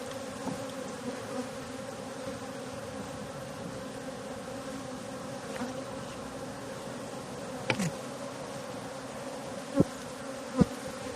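Honey bees in an open wooden hive during a spring colony inspection give off a dense, steady buzzing hum throughout, close and even, with a few faint clicks near the end.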